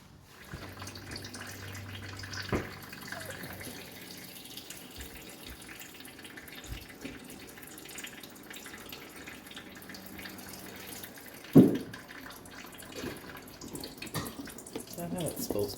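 Engine oil from a Toyota Estima Hybrid drains out of the open plug into a pan, making a faint, steady liquid trickle close by, with a few knocks and a sharp clunk partway through and some talking.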